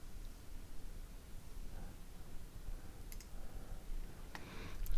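A computer mouse gives a couple of sharp, isolated clicks late in the stretch, standing out against a faint background hiss.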